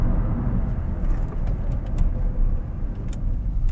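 Toyota Auris 1.33 petrol engine pulling away in fifth gear at under 2,000 revs, a steady low drone blended with road and tyre noise inside the moving car, no speech.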